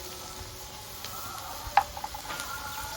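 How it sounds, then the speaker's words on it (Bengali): Spice paste for egg curry, with chopped green chilli, sizzles in a pan while being stirred, a steady close frying hiss broken by a few small scraping clicks and pops. "এবার নেড়ে চেড়ে ভালো করে একটু কষিয়ে নেবো"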